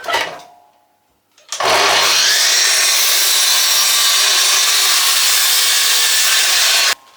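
A power saw cuts a length of timber for a bootjack: a short rising whine, a brief pause, then a loud, steady, sustained cutting roar for about five seconds before it drops away, close up with no talking.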